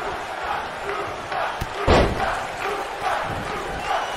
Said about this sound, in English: You can hear the Lucha chant in the background.